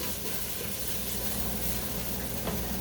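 Tomato paste sizzles steadily as it cooks down in a pan for meatballs and gravy, a continuous close frying hiss with faint stirring scrapes and no talk.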